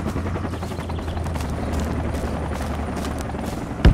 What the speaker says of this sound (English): There's still another guy who sounds like shooting at the chopper.